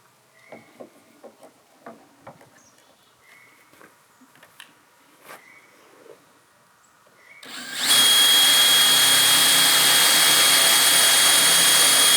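Power drill boring holes in a metal panel of a Ram ProMaster 118 wheelbase van during a camper build, starting after quiet workshop sounds and holding a loud, steady, high-pitched whine for the last four seconds.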